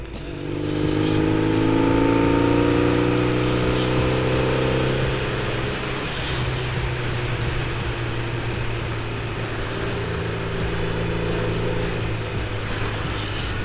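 Cars pass along a road on a Sunday, their engines revving and droning loud and steady for several seconds, with a rising whine early on and no talking.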